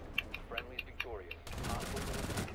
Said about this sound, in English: Chris is just randomly shooting